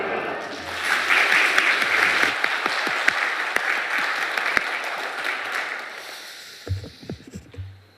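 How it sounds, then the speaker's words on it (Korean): Applause from a church congregation fills the space as a steady, dense clatter of clapping, with scattered sharper claps standing out, before it thins into a few separate claps near the end. "박수로도 환영해 주시기를 부탁을 드립니다"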